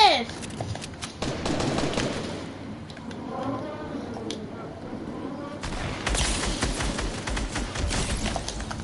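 Rapid bursts of gunfire from a shooter video game, with several loud shots at the start and a denser volley later, heard alongside talk.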